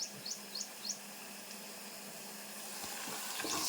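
Onions frying in a village kitchen pan give a steady, close sizzling hiss that runs the whole time, with a few short bird chirps early on and no talking.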